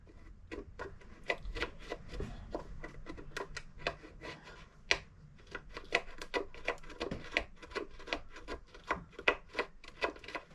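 A chisel scrapes and rasps inside the top of a Gilchrist mandolin during a top-crack repair, making a dense run of short, close scratching strokes in an irregular rhythm that carries on steadily throughout.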